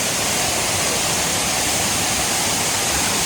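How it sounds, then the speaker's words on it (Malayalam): Areekal waterfall, running low on water, fills the space with a steady, loud rushing hiss heard from close beneath the falls, constant and unbroken with no voices. "നമ്മളിപ്പോൾ ആ ഒരു വാട്ടർഫോളിൻ്റെ അടിയിൽ വന്നിട്ടാണ്"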